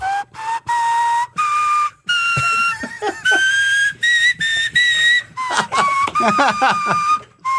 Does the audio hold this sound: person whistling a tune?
yes